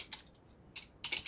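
Quick, light clicks of keys on a computer keyboard in a couple of short bursts, close and faint, with no talking.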